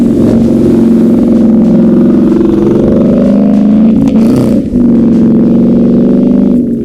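A 727 HP Ford Mustang with a Torsen axle and winter tires accelerates hard on a winter road, its engine roaring loudly and steadily with a brief dip in the middle.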